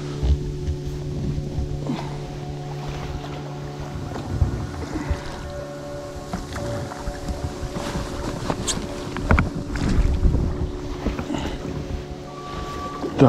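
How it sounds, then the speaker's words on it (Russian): A small boat on an autumn lake, rowed with oars by a lone angler and no motor running, giving uneven wooden knocks and splashes over a faint background hum and wind. "Сегодня буду на веслах. Без моторов."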